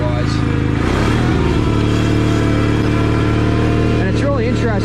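A Cub Cadet 782 garden tractor engine runs loud and steady nearby with a low droning throb, and a voice talks over it.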